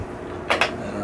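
Two quick scraping clicks close together as a plastic part slides into place on a homemade budget video light, fairly close and alone over quiet room tone.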